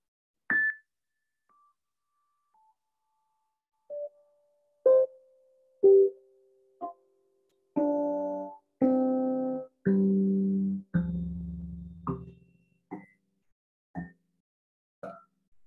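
A sequence of clean electronic tones steps through the world-soul scale from Plato's Timaeus, single notes at first, then longer sustained tones, each separated by short silences.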